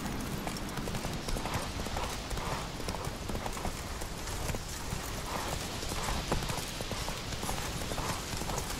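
Roach, the horse in The Witcher 3, gallops at a fast, steady clip, hooves pounding up close over rushing wind and game ambience for the whole stretch.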